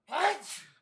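One quick, close human sneeze, a sharp breathy burst with a softer trailing exhale, lasting under a second in a quiet room where hay fever is in the air.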